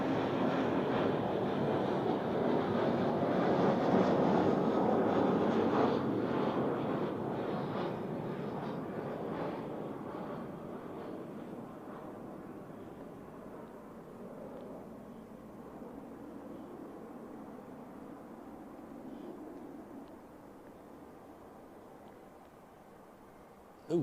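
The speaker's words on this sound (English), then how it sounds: "Ooh, that was a smooth touchdown there." An airliner touching down at Zurich Airport, heard as a distant, fairly faint jet roar that swells early and then slowly fades as the plane slows.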